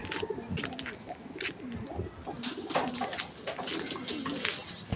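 Several pigeons coo in low, rolling calls close by in a loft, overlapping in a busy chorus with scattered wing flutters and soft clatter.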